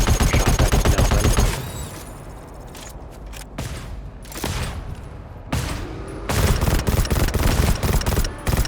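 Bursts of gunfire from the video game GTFO, loud rapid volleys that fill the opening stretch, drop to sparse shots and pauses in the middle, then return as dense sustained firing toward the end, with no talk.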